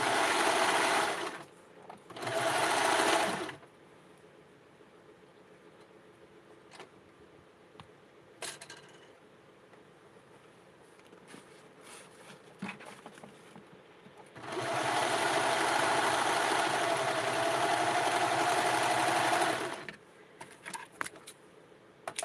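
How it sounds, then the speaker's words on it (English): A serger sewing machine finishes a fabric edge for a Barbie doll garment, running in two loud, close bursts, a brief one early and a longer steady stretch later, with quiet handling clicks between them. "Okay, so I just did the the serger finish on the edge."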